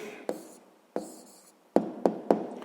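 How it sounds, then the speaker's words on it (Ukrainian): Pen writing an answer by hand on paper during a sixth-grade maths exercise: a few close, sharp taps and strokes, spaced two early and three quickly later, with soft scratching between. "Ну що ж, записуємо відповідь."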